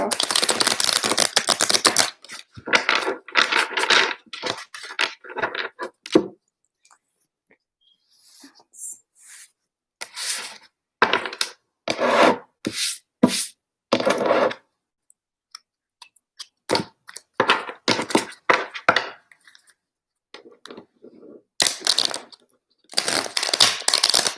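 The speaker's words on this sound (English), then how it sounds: "I'm just doing some shuffling right now to get this good to go." Tarot cards shuffled by hand in repeated bursts of crisp riffling and flicking, close and fairly loud, broken by short pauses of near silence.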